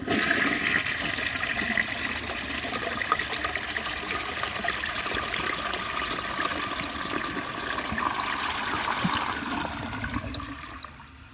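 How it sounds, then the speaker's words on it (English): A 1948 Kohler Brooklands toilet with a brass flush valve flushes with a strong, steady rush of water that runs for several seconds before tapering off at the end. "So I will show you guys a flush"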